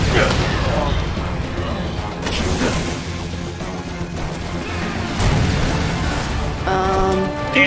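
Explosions and crashing impacts from a car being blown up in the co-op video game Resident Evil 6, with loud bangs and debris noise at intervals under ongoing game sound.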